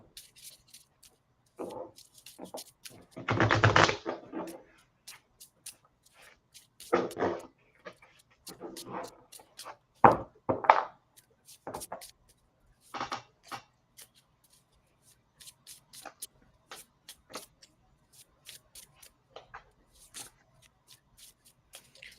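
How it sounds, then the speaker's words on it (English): Tarot cards are shuffled by hand in soft, scattered bursts of riffling and sliding, with the strongest flurry early and quieter rustles later, close and fairly faint in a quiet room. "I am still shuffling here."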